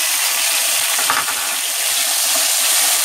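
Tomatoes go into a sizzling cumin tempering for a red Konkani crab curry: a loud, steady frying hiss with a brief burst of extra crackle and stirring partway through.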